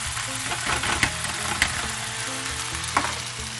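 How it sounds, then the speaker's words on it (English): Carrots, butternut squash, garlic and celery sauté in a pan with a steady, close sizzle, broken by a few sharp clicks of stirring. "we're going to let that saute there a little bit. Just let it get all nice and soft."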